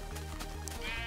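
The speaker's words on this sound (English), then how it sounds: "Ooh, brown sheep, they're quite rare," A sheep in the video game Minecraft gives a couple of short, wavering bleats, close and clear over a steady low background tone, with no voices.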